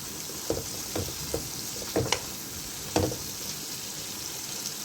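Lamb and bitter gourd curry sizzles in a pan as dried coriander is stirred in, with a constant frying hiss and several distinct scraping, clinking strokes of the spoon.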